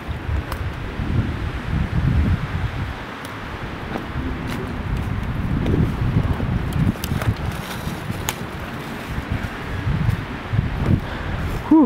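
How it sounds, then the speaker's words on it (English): Strong, gusty wind blows through trees outdoors, a continuous low rumble with buffeting on the microphone and faint rustling. Nobody speaks. "that wind is really kicking up today"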